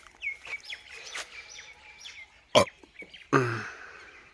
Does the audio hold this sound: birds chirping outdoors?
yes